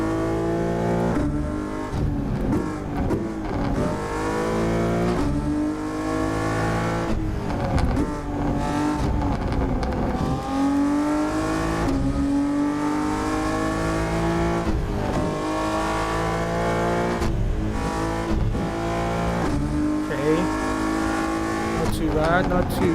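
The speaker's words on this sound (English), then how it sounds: "You can hear the engine, you can hear the turbo," A 1000HP car in the Assetto Corsa racing game drives through highway traffic, its engine revving up and down loudly and continuously with turbo and intake noise, with a voice talking over it throughout.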